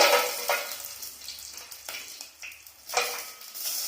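Bay leaf and cashews frying in a bowl of ghee for pilaf, a steady close sizzle with bursts of crackle and occasional stirring clinks, no talk.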